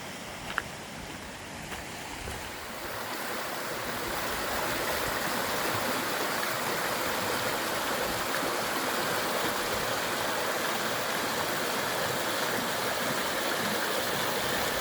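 Water cascades rush along the Appalachian Trail near the James River crossing, a broad, steady roar that swells after a few seconds and holds loud and continuous, with no talk.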